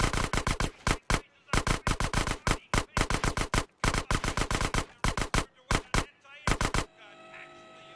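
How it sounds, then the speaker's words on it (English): SMG fire in GTA San Andreas on PS2: rapid bursts of loud, close gunshots in quick repeated volleys separated by short pauses, ending in a brief quieter tail. "the SMG makes this much easier"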